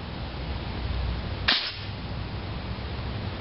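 A pressurized Nerf gun fires once, a single sharp pop over steady background hiss, with nothing following.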